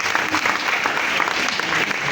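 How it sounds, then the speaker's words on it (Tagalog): A church congregation applauds, giving a steady, loud burst of many hands clapping that fills the whole short moment. "Pumalakpak na po yung mga honorable dito."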